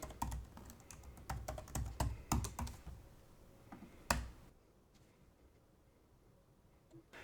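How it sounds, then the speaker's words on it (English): A username and password are typed on a computer keyboard, a close burst of quick key clicks over about four seconds ending in one sharp keystroke, then near silence. "type in your username and password for the NAS"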